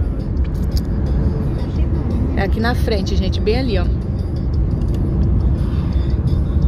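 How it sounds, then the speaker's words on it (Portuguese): Interior of a car on the way to a supermarket, a constant low engine and road rumble throughout, with someone speaking briefly over it. "Aí a gente veio de carro, né?"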